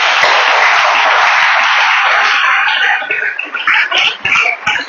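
A church congregation applauds, a loud, dense wash of clapping that holds steady, then thins and turns patchy in the final second.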